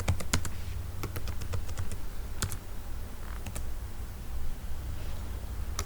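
Computer keyboard keys tapped in short irregular bursts while a root password is entered during a Debian server install in VirtualBox, crisp clicks close up over a steady low hum.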